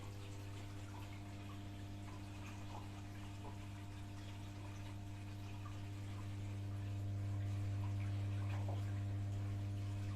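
A Samsung 18kg washing machine pump drains water with a steady low motor hum and a faint trickle, growing slightly louder and deeper partway through, with no spin and no voices.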